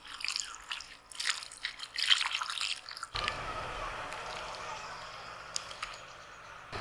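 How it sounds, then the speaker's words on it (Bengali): Potatoes being washed in water, with drips and splashing in a basin, first a broken run of small splashes, then a steadier flowing wash. "আলুটা জল দিয়ে আর একবার ধুয়ে নেব।"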